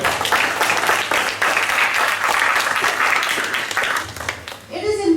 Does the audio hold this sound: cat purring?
no